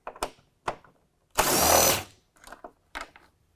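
An impact driver with an 8 mm socket spins out a bolt during a headlight bulb replacement, one loud sustained burst of about half a second amid scattered clicks and handling knocks.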